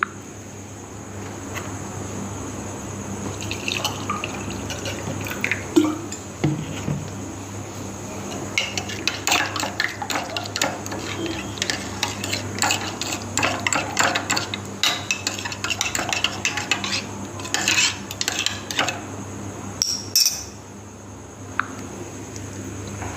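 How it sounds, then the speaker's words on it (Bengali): Instant coffee being stirred into hot water poured from a flask: a steady run of light metallic spoon-against-cup clinks, close and fairly quiet, with a constant background hum and insect chirping. "চলো বন্ধুরা কফিটা গরম জল দিয়ে তৈরি করে নিই"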